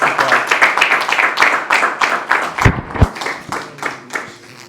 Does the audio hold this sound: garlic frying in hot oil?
no